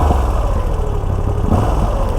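A Moto Guzzi V85 TT engine runs close by with a steady, throbbing low rumble that swells slightly near the end, with no voices.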